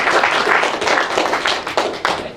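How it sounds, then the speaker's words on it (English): A crowd applauding a 2014 graduating class at a ceremony, dense and loud continuous clapping from many hands throughout, with no voices on top. "how about a big round of applause for a graduating class in 2014"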